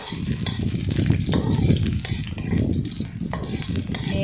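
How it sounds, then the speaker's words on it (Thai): Chopped garlic sizzles in hot oil in a wok, a steady close crackle with faint scraping from stirring throughout. "เจียวกระเทียมให้หอมก่อนนะคะ"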